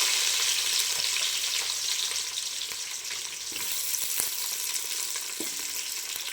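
Three large onions sauté in a hot pan, a dense, even hiss of frying that runs throughout with a few faint clicks and stirring touches, no voices.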